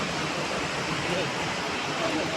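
A waterfall roars as a steady broadband rush during rain, constant and unbroken throughout, with no distinct events rising above the wash of falling water.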